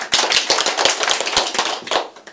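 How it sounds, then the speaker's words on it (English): Hands clap in a quick, uneven burst of sharp, close slaps during a training session in Kiev, with no voices over them. "Clap your hands."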